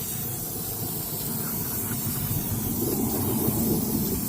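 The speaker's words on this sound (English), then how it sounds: "got our brake cleaner and just douse it" Brake cleaner sprayed to douse rear brake parts on a 2020 Chevrolet Suburban, a continuous loud hiss close by that runs the whole time without a break.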